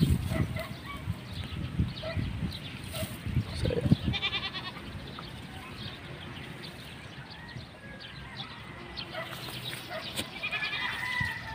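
Pet goats outdoors in hot sun and a breeze bleat repeatedly, several loud nearby calls rising over a rustling, windy background, with fainter bleats further off.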